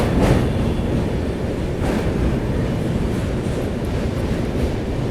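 The Shramjeevi Express rumbles over a long rail road bridge near a fog-covered ghat in winter, a loud, steady roar of wheels and carriages with wind-like noise throughout.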